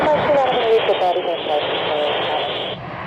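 A McDonnell Douglas MD-80 jet engine roars loud and close, a broad steady rumble that smothers a faint radio voice underneath.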